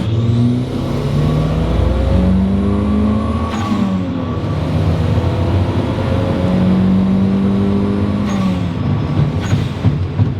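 A Toyota Celica GT-Four's engine pulls hard at full throttle through a corner, a loud, continuous rising drone heard from inside with brief shifts in pitch and no talking.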